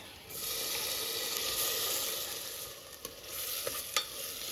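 Garlic, green chilies and chopped vegetables sauté in a pan with a steady broadband sizzle throughout, punctuated near the end by a few sharp stirring clicks and scrapes.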